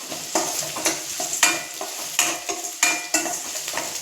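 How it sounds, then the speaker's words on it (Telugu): Sliced onions sizzling in hot oil for vankaya dum biryani, a steady frying hiss broken by regular scraping stirs of a spatula against the pan, close and continuous with no talking. "ఆనియన్స్ ఇలా వేగుతున్నాయండి"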